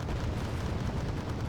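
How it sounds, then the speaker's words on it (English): Continuous autocannon fire in the video game Wargame Red Dragon, heard as a dense rumbling roar of overlapping blasts with no clear gaps, steady and loud throughout. "This is auto cannon fire after auto cannon fire."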